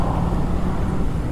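A car comes along a road, heard as a steady, broad low rumble of engine and tyre noise, close and fairly loud, with no one talking.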